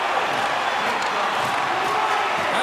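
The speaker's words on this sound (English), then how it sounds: "the crowd's on their feet, saluting the team after a hard-fought effort this evening" A hockey crowd at a Swedish SHL game between Malmö Redhawks and Färjestad BK cheers and salutes the team, a steady, loud, dense roar throughout with commentary over it.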